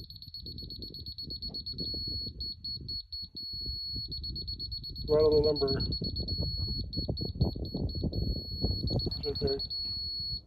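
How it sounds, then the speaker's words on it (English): A laser level receiver used to level a construction pad emits a high electronic beep, pulsing in bursts and then holding steady, while people talk over it close by. "So when it's beeping slow like that, beep, that means you're too low. Fast means you're too high."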